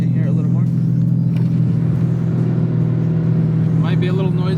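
A 900 wheel-horsepower Dodge Hellcat's engine drones as a steady low rumble through a cracked-open window while driving downhill, with people talking faintly over it.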